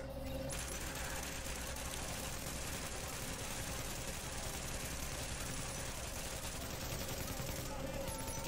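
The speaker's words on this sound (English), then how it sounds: "Look at all this ammo we're throwing down." Gunfire in the video game The Division rattles continuously and loud for several seconds, a dense stream of rapid shots with a faint mechanical hum beneath.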